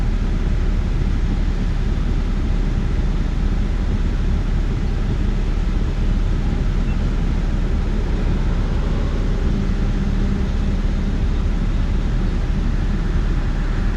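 A Jeep Cherokee engine idles with the air conditioning running, giving a steady, loud, unbroken hum and rumble that holds level throughout with no voices.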